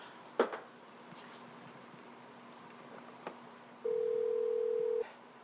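Telephone tone heard while a call is being placed, a steady electronic tone lasting about a second near the end after a few faint clicks and taps, fairly quiet against a low background hum.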